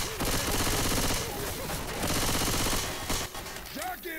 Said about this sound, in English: Alice, you are shooting me!